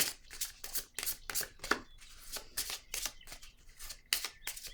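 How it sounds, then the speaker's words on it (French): Cards drawn and handled from a deck make a run of quick crisp snaps and riffling slaps, close and fairly loud, in an irregular rhythm with no talking. "Je vais piger une carte noire ou rose"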